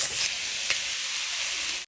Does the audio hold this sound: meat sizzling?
yes